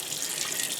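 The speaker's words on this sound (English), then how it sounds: "I make sure to run some good cold water on it" Cold water runs from a tap onto a tie-dye shirt being rinsed after discharge with decolourant, a brief, steady hiss of flowing water with no talk.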